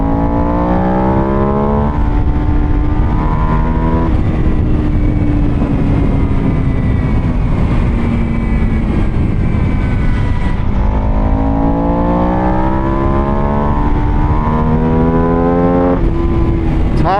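A Buell Super Cruiser race-style motorcycle is ridden hard at high revs, its engine note climbing through gears in repeated rising sweeps with brief shifts between them, loud and continuous with wind noise.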